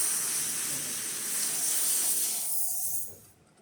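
Steady, close hiss from a La Pavoni espresso machine's steam wand, which then cuts off abruptly near the end.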